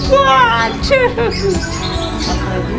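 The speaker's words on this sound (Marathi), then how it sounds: "हे पोपट्या भारी आहेत" Parrots at a bird park squawk loudly at close range in short, harsh repeated calls over a constant background din.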